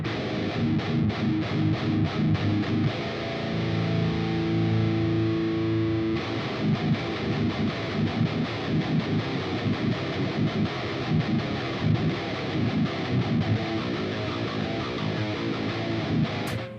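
Electric guitar played through distortion for a home recording, thick fuzzy chords and riffs with a brief pause near six seconds, then choppy strummed passages continuing loud and close for the rest.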